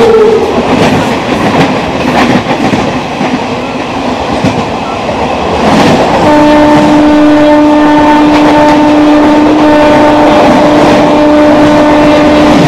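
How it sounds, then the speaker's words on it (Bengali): The 12814 Steel Express rumbles past at close range, loud continuous wheel clatter and rail noise, joined partway through by a sustained horn tone that holds to the end. "এখন ক্রস করবে 12-814 স্টিল এক্সপ্রেস।"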